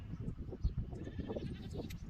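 Goats bleat around a farm's goat pen beside cow pastures, with several short calls scattered over steady low outdoor noise at moderate distance.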